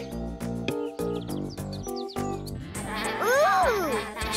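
Sheep bleating in a children's animal show, a wavering bleat rising near the end after a stretch of bouncy music with strong rhythmic notes.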